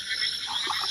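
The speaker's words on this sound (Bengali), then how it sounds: "চারদিকে ব্যাঙের ডাকতে আছে ছোটো ছোটো ব্যাঙ পাখি জিচি পোকা" Frogs croak in a dense, steady chorus on a rainy night in a rural village wetland, a continuous outdoor wall of calls with no talking.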